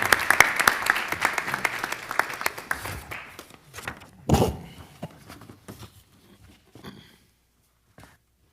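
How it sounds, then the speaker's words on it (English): A township committee meeting audience applauds the volunteer First Aid Squad, a brisk burst of clapping that thins and fades out over several seconds, with a thump partway and scattered last claps. "let's give a round of applause to our First Aid Squad."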